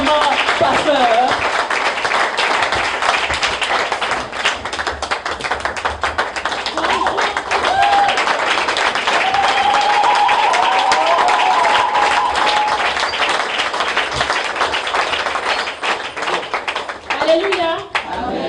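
A church congregation applauds at a Christian service, sustained loud clapping with some cheering and raised voices mixed in, continuing nearly twenty seconds before tapering near the end.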